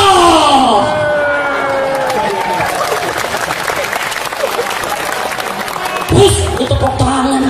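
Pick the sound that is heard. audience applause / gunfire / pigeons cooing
audience applause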